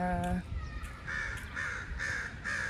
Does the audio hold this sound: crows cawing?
yes